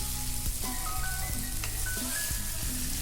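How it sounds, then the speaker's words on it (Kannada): Marinated fish sizzles steadily in hot oil on a tawa over a medium flame, a close, continuous crackle with a few brief louder spits as pieces are turned. "ಮೀಡಿಯಮ್ ಫ್ಲೇಮ್ನಲ್ಲಿ ಇಟ್ಕೊಂಡು ತಿರುಗಿಸಿ ಹಾಕ್ಕೊಂಡು ಫ್ರೈ ಮಾಡ್ಕೊಳ್ತಾ ಇದ್ದೀನಿ"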